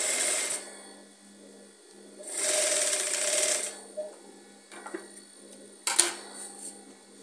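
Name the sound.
sewing machine stitching corset blouse back panels together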